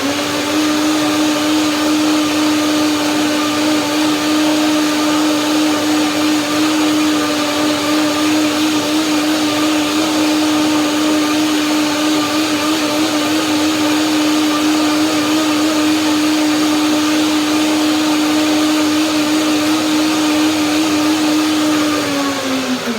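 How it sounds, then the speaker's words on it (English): A blender runs continuously at a steady, loud whine, holding one pitch before winding down slightly at the very end. "One more blender dance."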